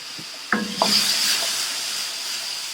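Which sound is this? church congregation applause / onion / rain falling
onion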